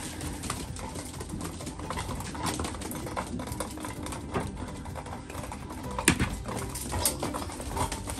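Pigeons being fed fill the space with dense pattering and scratching of feet and grain, along with soft cooing and wing flutters, all steady and close with no clear talk.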